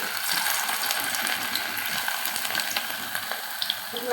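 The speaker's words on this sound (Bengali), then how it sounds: "আমি একটা একটা করে পিঠাগুলো দিয়ে দেবো। এই পিঠাগুলো ভেজে নেব।" Chepa jhal pitha, Bangladeshi dumplings, frying in hot oil, giving a steady close sizzle and crackle throughout with small pops toward the end, no voices over it.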